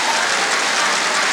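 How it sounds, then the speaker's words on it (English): A church audience at a pastor's question-and-answer session claps in a brief, dense burst of applause that sounds close and loud. "You give that supporting clap again"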